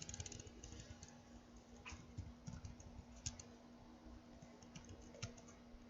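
Computer keyboard typed steadily as commands are entered to configure gigabit ethernet interfaces, a quiet run of irregular soft key clicks over a low steady hum, with no talk.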